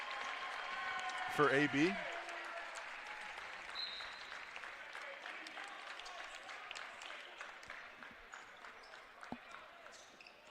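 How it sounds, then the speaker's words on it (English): A standing ovation at a men's college basketball game between MNU and William Penn, sustained crowd applause filling the gym for the whole stretch, with an announcer briefly speaking over it and a few ball bounces early on. "Standing ovation"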